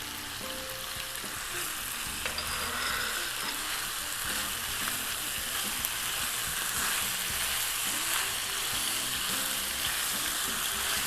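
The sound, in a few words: shrimp sizzling as added to pan with peppers for jambalaya pasta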